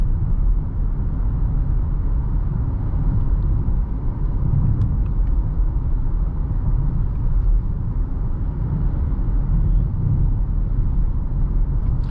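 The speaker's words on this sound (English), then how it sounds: "Nice smooth V6." A 2023 Dodge Challenger SXT with a V6 engine cruises at a steady speed, giving a smooth, constant low rumble and road drone from inside the cabin, unchanging and continuous with no talk.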